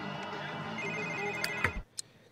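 A mobile phone rings in The Sims 3 with a steady, bright electronic ringtone that cuts off abruptly and is followed by a couple of small game clicks.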